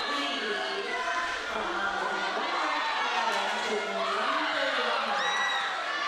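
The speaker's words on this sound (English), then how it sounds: "Crowd is going crazy." A large crowd cheers, whoops and shouts continuously at a junior roller derby championship game, loud and sustained, with excited voices rising and falling throughout.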